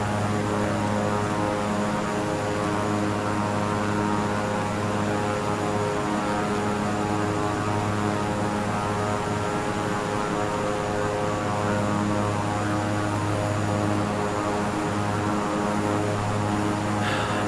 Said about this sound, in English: I'm trying to land a plane right now